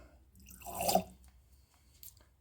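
Water dripped from a small pipette or dropper into a grape spirit sample, one soft close liquid plop in a quiet room with faint handling noise afterward.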